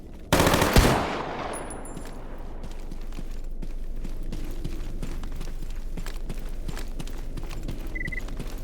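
A sharp, loud pistol gunshot from Stalker Gamma cracks near the start, then decays into a long stretch of low ambient game noise with faint scattered clicks.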